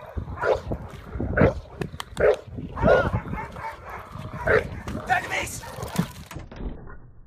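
A dog gives repeated short barks and yips in quick succession, close by, mixed with whimpering and a busy background of voices.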